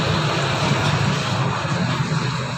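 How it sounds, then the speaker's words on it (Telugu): A tractor roars past nearby on a rural Telangana road, its heavy engine drone loud and continuous throughout with no voices over it. "ట్రాక్టర్ పోతుంది ఫుల్ సౌండ్తో"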